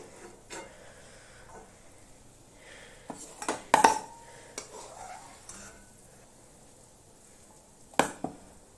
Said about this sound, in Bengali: আর শাকগুলো উঠিয়ে নেবো একটা বাটিতে।